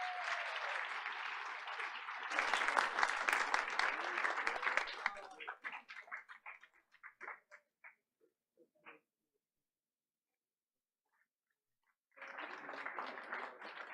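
Applause for a school honoree at a Board of Education meeting: a dense burst of clapping that swells, then thins into scattered claps and fades to silence, with a second round starting at the end.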